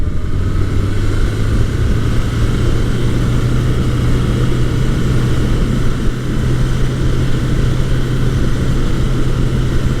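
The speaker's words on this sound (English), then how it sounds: "I'm currently riding Suzuki's GS1100E. It's a 1981 model. I'm out on a test drive, and man, does this thing run nice." A 1981 Suzuki GS1100E motorcycle engine drones steadily while the bike is ridden, a loud, continuous low hum with wind rush that holds an even pitch throughout, with no one talking.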